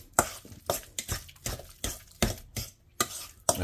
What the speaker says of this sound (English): you do want to mash it because you want a little bit of substance in here